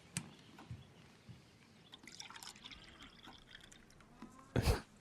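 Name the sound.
milk being poured into a glass in a film scene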